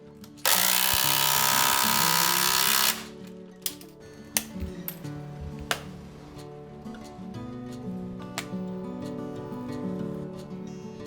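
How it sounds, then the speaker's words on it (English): A power tool retightens bolts in large pine beams of a wooden porch ceiling: one loud, steady whirring burst of about two seconds, then scattered sharp clicks and knocks over a quieter background. "First, I will retighten all the bolts the same way as the previous ceiling installation."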